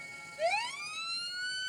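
An ambulance siren starts with a rising wail and then holds a steady high tone. It is clear and close, with no talking.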